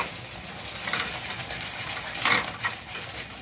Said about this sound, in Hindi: ये देखिए दोस्तों मसाला कैसे भून गया है